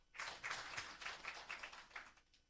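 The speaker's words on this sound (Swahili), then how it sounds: "Naomba kwa mara nyingine tena tuwapigie makofi" An audience at a regional education learning initiative event in Tanzania claps together in a steady, dense patter that lasts a couple of seconds, heard faintly and from a distance.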